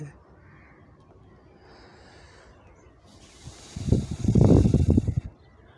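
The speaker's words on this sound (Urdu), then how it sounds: "پرندوں کی آوازیں ہیں" Crows cawing on a quiet, foggy morning, a cluster of harsh, loud calls near the end after a stretch of near silence with faint background.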